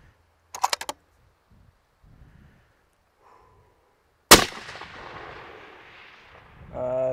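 Gunfire during a shooting drill: a fast burst of four sharp shots, then one loud close shot that rings out with a long reverberant tail.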